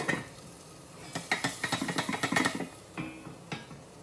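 Frozen tofu sizzles in a pan, with a steady frying hiss broken by a quick series of stirring scrapes and clinks of a utensil against the pan, close and alone.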